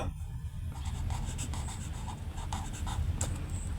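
A pen or pencil writes by hand on paper, a close, continuous scratchy rubbing with small rhythmic strokes.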